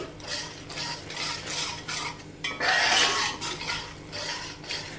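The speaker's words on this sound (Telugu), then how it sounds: "ఇప్పుడు ఈ మిశ్రమాన్ని బాగా కలుపుకోవాలి" A spoon stirs a sticky ghee and jaggery sweet mixture in a pan, giving repeated scraping and clinking strokes in a steady rhythm, close and moderately loud, with no talking.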